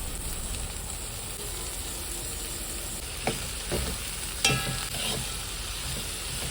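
Potatoes, val papdi beans and salt being stirred in a hot spice tempering in a kadhai, a continuous close sizzle with occasional spatula scrapes and clinks against the pan.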